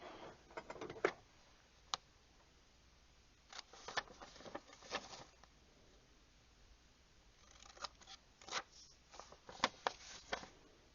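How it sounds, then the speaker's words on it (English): Scissors snipping through paper ephemera for a junk journal, a series of short sharp cuts in irregular bursts with quiet pauses between, close and fairly soft. "So again, we're going to do the same cutting."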